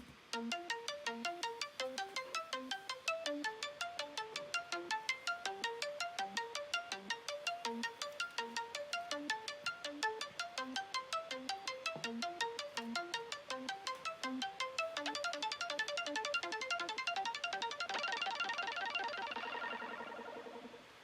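Arpeggiated synth preset called Classic Cycle 3, running through an arpeggiator with LFO modulation in an EDM/electronic pop track, plays a steady stream of quick, bright repeating notes, thickening into a brighter, denser wash near the end; no voices.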